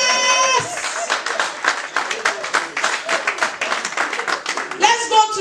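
A church congregation at a Ghanaian Twi gathering in the Bronx claps steadily together, a dense, lively burst of many hands with voices mixed in, close and loud throughout.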